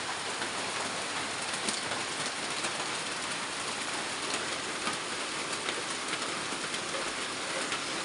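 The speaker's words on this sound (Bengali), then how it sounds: "কত বৃষ্টি পড়ছে" Steady rain pours down in a dense, even hiss that holds unbroken throughout, fairly close, with no voices.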